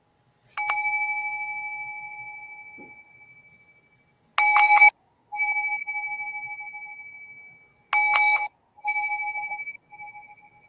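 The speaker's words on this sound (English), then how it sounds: "I do want to incorporate my chime, my Tibetan bowl, as vibration and sound and air." A Tibetan singing bowl chime struck three times, each tone ringing with sustained bright overtones that fade slowly, alone in a quiet room.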